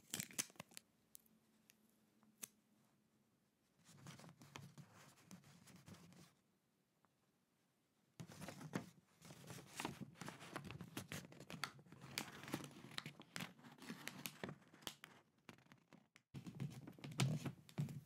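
Wrapping paper crinkling and rustling while a wedding present is wrapped, close and crisp handling noise in long busy stretches broken by short quiet pauses.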